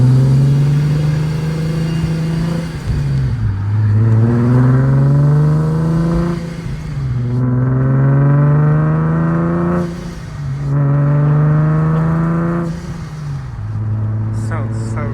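A supercharged Nissan 370Z engine revs repeatedly on a test drive, a loud, close drone climbing in pitch through the gears with short dips between pulls.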